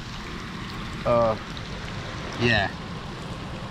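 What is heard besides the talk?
heavy rain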